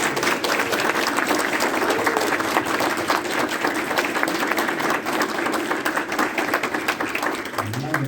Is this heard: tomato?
no